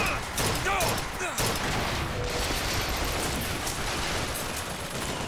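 Rapid turret gunfire rattles continuously in the video game Bioshock Infinite, a dense, loud barrage of shots with clattering mechanical noise and some voice mixed in.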